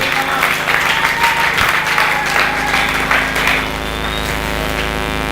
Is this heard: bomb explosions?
no